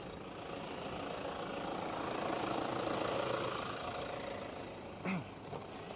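A Toyota Fortuner's diesel engine idles with a steady low rumble that swells slightly and then holds, followed by a brief higher whine near the end.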